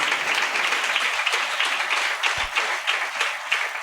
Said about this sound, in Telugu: చప్పట్లు కొట్టి ప్రభువుని కనపడతాం